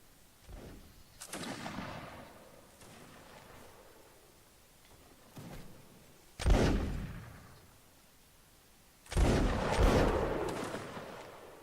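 Musket volleys from French and British troops in battle: three heavy, booming discharges spaced a few seconds apart, each with a long rolling decay, over quiet background rumble.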